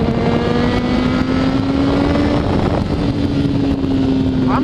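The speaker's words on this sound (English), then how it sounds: "I'm rolling right now in third gear" A Honda CBR600RR motorcycle rolls along in third gear, its engine holding a steady, fairly loud drone with a slowly rising pitch over continuous road and wind roar.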